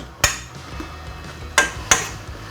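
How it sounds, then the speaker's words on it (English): A utensil knocks and scrapes against a pan while Thai basil pork stir-fry (pad gaprao) gets a final mix, three sharp clinks, one early and two close together near the end, with quiet rustling between. "Just give that a final mix round."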